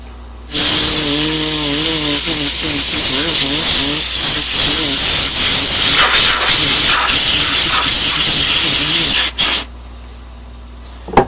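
A can of compressed air duster blasts a loud, continuous hiss for about nine seconds while cleaning out a computer and its filters, then cuts off abruptly.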